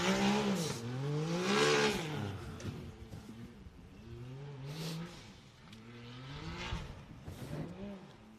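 A full-body Can-Am off-road vehicle races over a red ramp on a course, its engine revving up and down in loud, rising and falling sweeps, with commentators talking over it.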